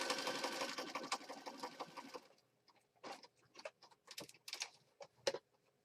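A sewing machine stitching a junk journal whirs steadily for about two seconds, then stops, leaving scattered light clicks and handling taps.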